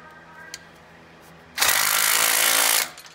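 A small impact wrench snugging 9/16 bolts during an AS300 assembly gives one loud, continuous burst of hammering rattle lasting over a second, close by, with a faint tap beforehand and quiet shop ambience on either side.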